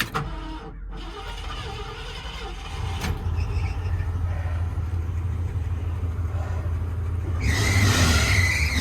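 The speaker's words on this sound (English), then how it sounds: "Belt squeaking a little bit." A 1975 Ford F-250 Camper Special idles steadily up close, its low engine drone running throughout while a thin high squeal from a loose power steering belt rises and grows louder near the end.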